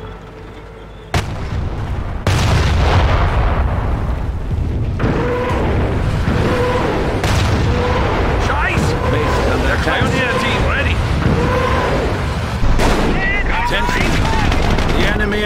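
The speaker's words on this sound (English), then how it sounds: "Commencing barrage." Artillery barrage in the World War II strategy game Company of Heroes, Falaise Pocket mission: sustained rumbling booms and crackling blasts roll on for the whole stretch, layered under battlefield chatter and game voices.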